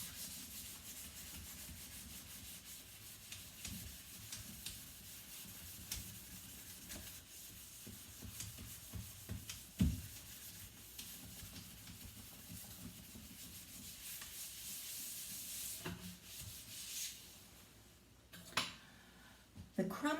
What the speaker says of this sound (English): now I've got my baking soda all over the sink. I'm going to start scrubbing.